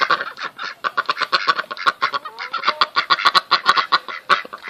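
A farmyard flock of chickens, a rooster and ducks clucks and honks in rapid, overlapping calls. The birds are close and fairly loud throughout, and no one speaks.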